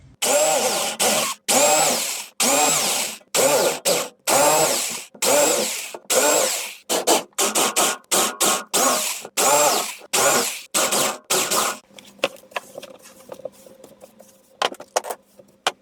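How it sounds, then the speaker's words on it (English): A power drill drills out rivets from a PC case, whirring in repeated short bursts, starting and stopping in a steady rhythm close by, then a few quieter, sparser bursts toward the end. "I think I've finally managed to drill all of the rivets out."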